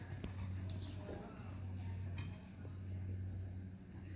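Horse hooves clip-clop at a steady walking rhythm during a riding lesson, quiet and somewhat distant, with faint background noise and no clear talk.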